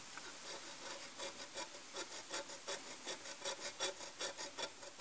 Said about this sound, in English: I'm going to use a hacksaw here and just kind of rub, get a little groove started